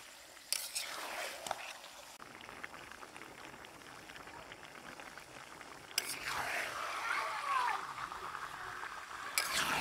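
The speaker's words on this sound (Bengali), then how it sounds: "মশলার সাথে মাংসটা খুব ভালোভাবে কষিয়ে নেব।" Duck meat stir-fried with spices in a pot over a wood fire, giving a soft, steady sizzle and scraping stir, with a few louder clatters of the spatula.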